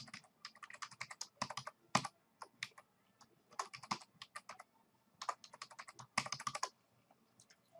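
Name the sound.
typing a password on a computer keyboard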